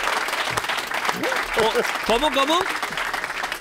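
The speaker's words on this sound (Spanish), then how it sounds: "un aplauso para Álvaro, que es su cumpleaños" A studio comedy-show audience applauds for a birthday, steady dense clapping throughout, with a few spoken words and a voice rising over the middle of it.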